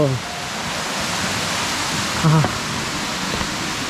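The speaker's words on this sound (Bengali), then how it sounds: "ঝর্নার কাছাকাছি চলে আসছি আওয়াজ পাওয়া যেতেছে একদম বড় ঝর্ণা" A large waterfall deep in the forest of Rangamati roars as a constant broadband rush, with brief voices heard over it.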